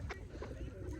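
Pigeons cooing outdoors on a wintry waterside, a few low soft coos blending with a murmur of background noise, fairly quiet and brief, with no clear talk.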